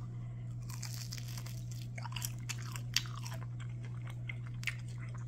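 Crunchy fast-food chicken wings from Taco Bell, bitten and chewed up close, with scattered crisp crunches and small crackles over a steady low hum, fairly quiet and with no talking.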